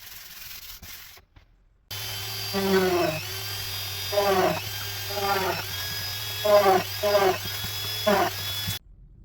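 A drill bores pilot holes through thin plywood covered with a taped, glued paper template, in five or six short whining bursts that each rise in pitch, separated by brief pauses over a constant background hum.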